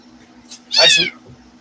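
A kitten gives a single short, clear meow up close, with a faint steady hum underneath.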